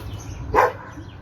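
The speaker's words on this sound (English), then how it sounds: "Sorry for Freya's barking." A single short dog bark sounds once, fairly close, over a quiet background.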